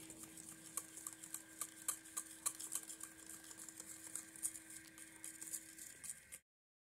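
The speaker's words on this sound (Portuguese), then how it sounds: "Agora eu vou misturar bem." A spoon stirs cake batter with a spoonful of baking powder just added, a steady run of rhythmic scraping and clinking strokes against the bowl, close and fairly quiet, with no voices.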